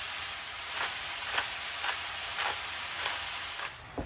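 Italian sausage and other meat browning in a pan for Bolognese sauce: a steady, close sizzling hiss with regular soft bursts about every half second, as if the meat is being stirred, and no voices.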